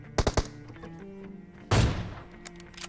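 Gunfire rings out in PUBG Mobile: a quick burst of three sharp shots, then a short pause, then another louder, heavier volley that fades out.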